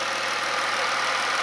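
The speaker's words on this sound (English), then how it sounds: "Injectors are really loud on these engines." A 2014 Dodge Charger V6 with a cold air intake idles up close, a steady loud hum with rapid ticking from the fuel injectors, no talk.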